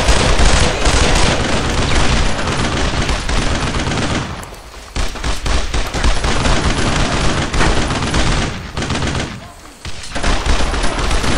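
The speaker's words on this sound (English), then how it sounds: "You can see all the covering fire that's going off." Heavy sustained covering gunfire in a World War II combat game, a loud continuous barrage of rifle and machine-gun bursts with only brief lulls, muffled voices faintly underneath.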